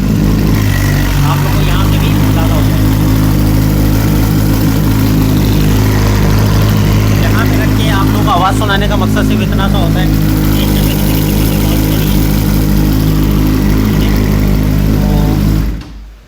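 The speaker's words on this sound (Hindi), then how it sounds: "मोटरसाइकिल स्टार्ट है इस वक्त और काफ़ी लाउड है" A loud Suzuki GSX-R 600 sport motorcycle engine idles with a steady, throbbing rumble, while someone talks over it for part of the time.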